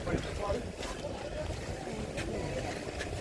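Sea waves lap and splash steadily against a boat hull off Puri, mixed with rushing wind noise and faint talk underneath.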